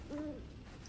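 An owl hoots once in a video game, a short soft two-tone call heard faintly over quiet ambient background.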